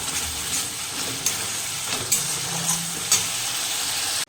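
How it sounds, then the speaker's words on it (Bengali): Spices for a Bengali egg curry sizzle steadily in hot oil, a constant close hiss with a few soft clicks and stirring knocks throughout. "ডিমের ঝোলের মশলা কষানো হচ্ছে"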